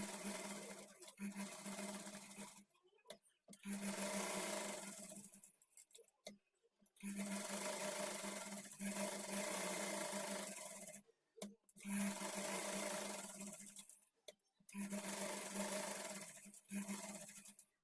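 Sewing machine stitching a blouse lining to the main fabric with a quarter-inch margin, running in several steady bursts separated by short pauses, close and clear.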